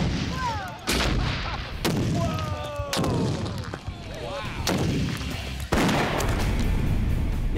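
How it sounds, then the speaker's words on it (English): A double load of Hollywood binary explosive set off by a bullet, giving several loud, booming blasts with sharp attacks and long rumbling decays, heard alone and close. "doubling the material gave us at least double the explosion, if not more"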